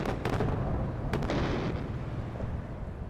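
Heavy artillery blasts from a super heavy tank in a Star Wars-style war video game battle, a loud continuous rumbling din with a few sharp bursts standing out early on.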